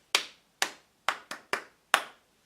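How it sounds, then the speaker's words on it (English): A single person claps their hands six times in a loose, uneven rhythm, each clap sharp, close and fairly soft in a quiet room with no talking. "Let me just clap for myself once again."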